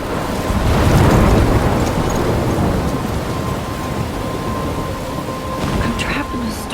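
A storm in the video game Life is Strange rumbles with thunder over steady rain and wind. The dense wash is loud at first and eases into a continuous roar, with faint voices underneath.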